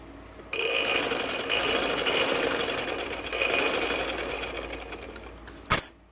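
A sewing machine stitches a gents shalwar, starting abruptly into a fast, steady whirring chatter that runs for several seconds close up, then stops with a brief knock at the end.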